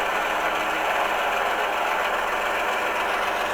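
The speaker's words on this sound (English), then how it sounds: "you can hear how the locomotive is throttling up" A Tsunami2 sound decoder in a Scale Trains ES44 GEVO model diesel locomotive produces a steady, loud droning engine rumble with a buzzing mechanical texture as it throttles up under load, continuous with no talk.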